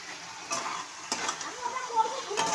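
Potato with ginger, garlic, onion and tomato masala frying in a pan, a soft, close sizzle broken by a few spatula scrapes and light clinks against the pan, fairly quiet throughout.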